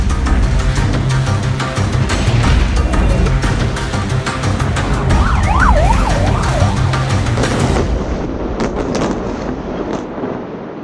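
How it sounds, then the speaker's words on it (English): Air-raid sirens wail loudly and continuously during a rocket barrage in Israel, with a rising and falling tone over dense rumbling noise and sharp bursts, then the siren cuts out and scattered pops and crackles continue. "The sirens have gone off, people are taking cover"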